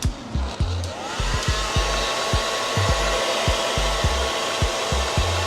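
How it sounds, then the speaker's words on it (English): A hair dryer roars steadily up close, its constant whoosh broken by repeated low rhythmic thumps as it is moved around. "you're just going to go in with the blow dryer"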